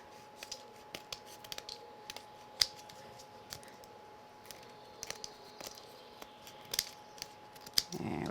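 Scissors make sharp little snips as they trim the edge of a woven paper craft piece, faint scattered clicks over quiet room tone, with a soft rustle at the end.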